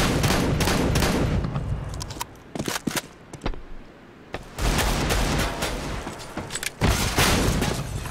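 Dense, rapid gunfire bursts in a competitive video game shooter match, with super shotgun blasts and sharp booms, loud and continuous with brief lulls.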